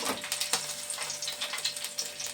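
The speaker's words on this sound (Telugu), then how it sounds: "పచ్చిమిరకాయలు వేస్తున్నాను అండి." Green chilies hitting hot oil in a pan, a steady close crackling sizzle with small popping bursts running continuously throughout, no voices.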